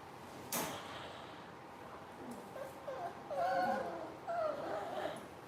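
A puppy whimpers and yips in short, high, wavering cries, fairly quiet and repeated several times after a sharp knock, in a calm indoor setting.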